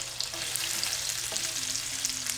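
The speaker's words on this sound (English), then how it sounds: "Okay, so I'm gonna saute that" Chopped cabbage sautés in a generous pool of bacon fat, giving a steady, close hiss and crackle that holds without a break and with no voices over it.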